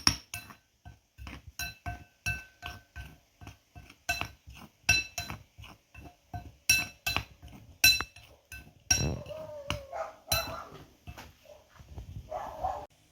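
Chicken liver is mixed with breading mix and pepper in a bowl, producing a steady series of sharp clinks and taps of a utensil against the bowl. The strokes come at a brisk, uneven pace and are heard close up with no talking.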